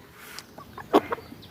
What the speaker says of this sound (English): So this is a male, like this, a small rooster.